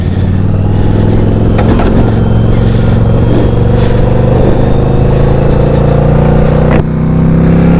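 Yamaha V Star 1100 Custom cruiser motorcycle being ridden, its engine running loud and steady with a droning exhaust note that climbs under acceleration, wind rush layered over it throughout.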